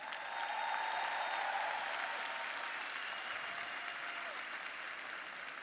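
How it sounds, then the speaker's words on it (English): Audience packed into a coliseum arena gives sustained applause, a broad, even roar of clapping with faint cheers, loud at first and easing slightly while continuing to the end, heard from within the crowd. "Let's give all these leaders in this coliseum a huge round of applause."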